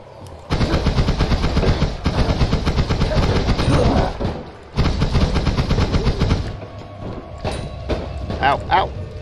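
Continuous weapon fire in the video game Noita, a dense rapid rattle of shots in two long bursts, with someone talking over it before it thins into scattered effects.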